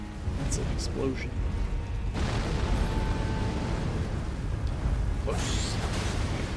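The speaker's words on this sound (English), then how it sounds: "Explosion." An explosion in the video game Elden Ring: Shadow of the Erdtree booms as a low, sustained blast under ongoing game sounds, with a few sharper hits before and after.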